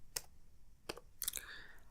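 A few quiet clicks of keys on a computer keyboard come in short, sparse bursts as a network scan command is typed, close and faint with no voices.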